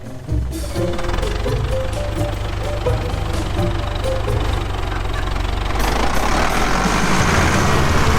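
An old tractor engine runs at a rough, throbbing idle on a farm during 2022 wheat sowing, loud and close and steady throughout, with a brighter rise in its noise near the end.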